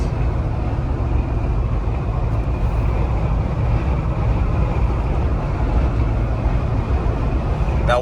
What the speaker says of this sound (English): But I just wanted you to hear the road noise.